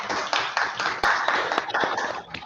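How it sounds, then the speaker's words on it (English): Toastmasters club members clapping in an online meeting, a loud, close burst of rapid clapping with distinct individual claps pulsing through, slightly compressed and steady for a couple of seconds. "A big round of applause, everyone."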